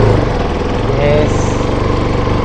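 Motorcycle engine running steadily nearby at a rough, even idle, loud and continuous throughout, with people talking faintly over it.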